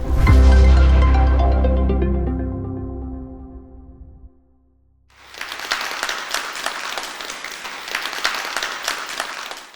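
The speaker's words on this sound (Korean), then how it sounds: "여러분 박수 부탁드립니다" A fading musical tone gives way, after a brief silence, to a studio audience breaking into sustained, dense applause on a Korean broadcast program.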